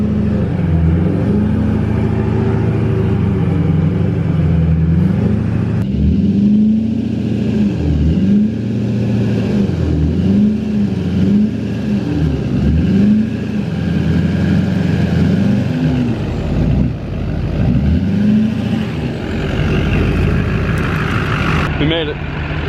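A Duramax pickup on 40-inch tires crawls uphill off-road in four-wheel drive, its engine droning loud and close with rising and falling revs through rough terrain, and people talking over it.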